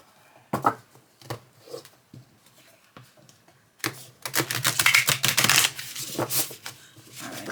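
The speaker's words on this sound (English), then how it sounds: "Now let's see how they shuffle." Tarot cards being handled: a few sparse taps and flicks, then a dense rapid fluttering burst of riffle shuffling, close and crisp, trailing into more flicks.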